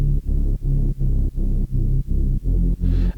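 Synthesized speed garage reese bass with distortion, a loud, buzzing low tone pulsing in steady repeated notes with short gaps between them, alone with no voices.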